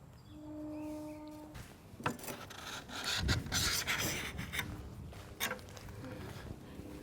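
Shavings are taken off an Osage orange selfbow limb, giving rough, uneven rasping and scraping strokes at close range, mixed with soft rubbing and handling noise.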